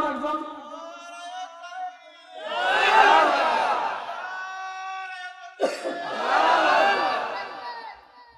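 A crowd at a Bangla religious gathering shouts a takbir chant in unison, two loud collective bursts of voices separated by a short pause and a single voice between them.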